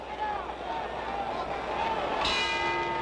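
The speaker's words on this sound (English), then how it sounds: "There's the bell ending round 7 here at Madison Square Garden" Boxing ring bell clanging to end round seven of a 1965 heavyweight bout at Madison Square Garden, a single bright strike ringing out over a steady roaring arena crowd near the end.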